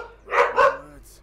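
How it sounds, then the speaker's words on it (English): Dogs bark in the game A Plague Tale: Innocence, two close, sharp barks in quick succession over a low background hum. "Dogs."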